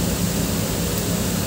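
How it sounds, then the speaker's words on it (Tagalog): Rain falling outside, a dense, steady hiss of even loudness throughout, with no voices. "kaya lang umuulan, hindi ako makalabas"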